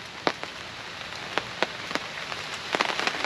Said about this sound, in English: Rain's starting to get a little bit harder here.